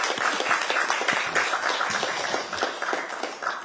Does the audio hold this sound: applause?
yes